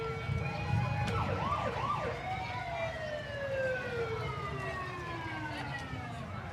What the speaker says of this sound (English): I'm not sure what the siren is about